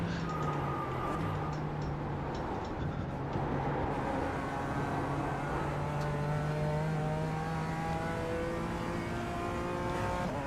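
Race car engines lapping the Nordschleife in the iRacing sim during a Nurburgring endurance event, a steady drone of several engines rising and falling in pitch as they accelerate and shift, loud and continuous with no talking.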